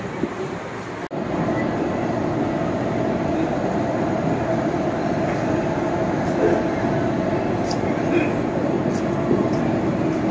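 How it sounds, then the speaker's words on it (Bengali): The Sealdah–Ajmer SF Express (12987), an AC two-tier train, gives off a steady, close, droning rumble for about ten seconds. A single sharp click sounds near the start. "12987 শিয়ালদা আজমের SF এক্সপ্রেস ট্রেন আমাদের দিয়ে দিয়েছে।"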